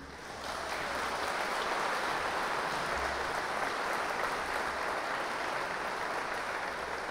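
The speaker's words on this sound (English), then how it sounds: "I think that every second clap was for Strauss himself" A concert audience applauds after an orchestra plays a suite from Der Rosenkavalier by Strauss at a singing competition finals concert, a steady, fairly faint wash of clapping that starts abruptly and holds evenly throughout.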